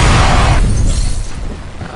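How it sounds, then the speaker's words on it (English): A grenade detonates in a video game with a loud, close blast that rolls into a rumbling tail and fades over about two seconds, with no voices. "Oh, why'd I throw a grenade?"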